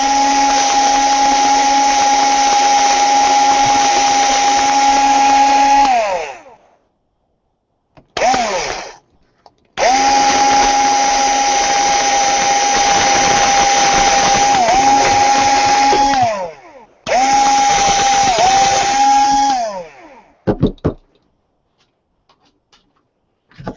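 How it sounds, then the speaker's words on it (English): A power drill whines at a steady high pitch while drilling into a small dragon model. It runs in several long, loud bursts broken by short pauses and brief triggers, and the tone sags slightly as the bit bites. "I know you're dying to see me drill into a dragon."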